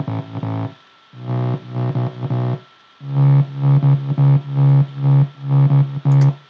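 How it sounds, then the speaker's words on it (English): A driven, slightly distorted sine-wave bass synth plays short repeated notes in a steady rhythm, with brief gaps between phrases. "just the basic sine wave as well, to give it a little bit of a drive"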